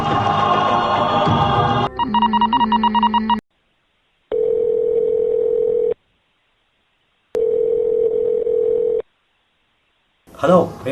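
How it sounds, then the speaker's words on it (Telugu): A telephone is being dialed: a burst of tones, then a steady electronic tone that sounds twice with silent gaps between, loud and close. "శశి ఫోన్ చేయరా, ఫోన్ చేయరా."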